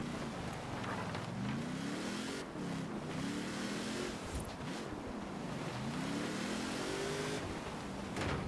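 Engine of a 1975 Ford Bronco 4x4 in Forza Horizon 4 on a winter drive, revving up and down in repeated sweeping climbs over a constant rumble, moderately loud with no one speaking.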